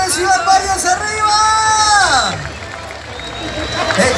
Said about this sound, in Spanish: Les pido un fuerte, fuerte, fuerte, fuerte y caluroso aplauso de toda la gente hermosa de Ciudad Valles